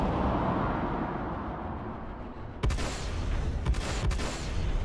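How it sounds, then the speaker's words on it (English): Energy weapons firing in the Star Citizen space combat game, Vanduul Swarm mode: a steady rumbling bed broken by a sudden burst of sharp crackling shots, followed by a few more distinct bursts. "I need to use my energy weapons, really."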